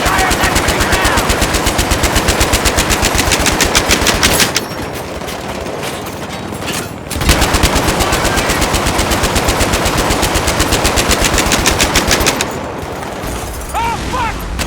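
Mounted machine gun in the Battlefield 3 video game firing in long, loud, rapid sustained bursts, two extended strings broken by short pauses, close and dominant over battle ambience.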